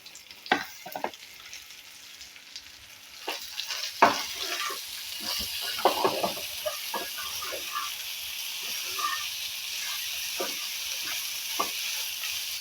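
Corn upma fries in oil while being stirred, with a low steady sizzle and irregular scraping and knocking of the spoon against the pan, close and moderately loud.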